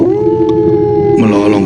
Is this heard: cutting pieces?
no